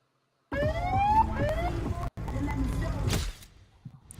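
A wailing siren sweeps up and down in pitch, loud and close, then cuts off abruptly, leaving a quieter tail.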